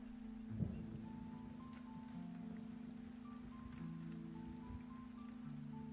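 Steady rain falls across a rain-soaked quarry in a fantasy ambience, a soft continuous wash of drops with a low tonal drone and a few faint thuds beneath it.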